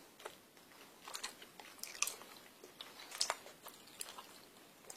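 Gummy candies from a Japanese snack box are bitten and chewed in soft, moist, irregular crunches and squishes, close and quiet, with no talk.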